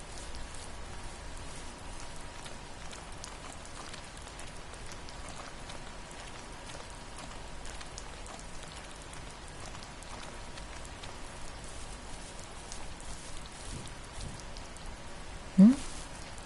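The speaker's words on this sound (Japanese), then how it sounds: "ずっと雨降ってる。" Steady, soft rain falls continuously in the video game The First Tree, an even wash of hiss with no voices, and one brief louder blip near the end.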